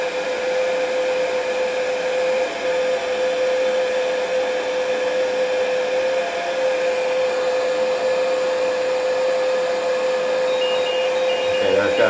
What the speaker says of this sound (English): I'm actually going to crank on my heat gun